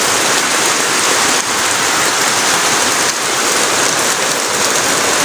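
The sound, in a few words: heavy rain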